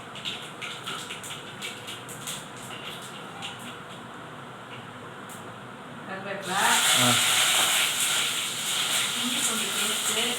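Mustard seeds popping in hot oil in a home kitchen, with quiet hissing at first and then a sudden loud burst of dense crackling spatter that carries on to the end.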